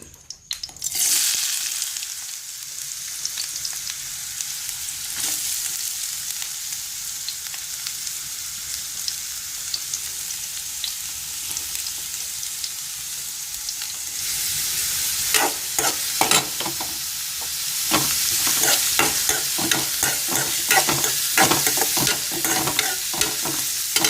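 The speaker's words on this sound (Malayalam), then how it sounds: "കുറച്ച് വെളിച്ചെണ്ണ ഒഴിച്ച് കൊടുക്കാം ഉള്ളി ഇട്ട് കൊടുക്കാം" Onion frying in coconut oil in the pan used for frying fish, with a loud continuous sizzle that turns into a busier crackle broken by rhythmic stirring scrapes in the second half.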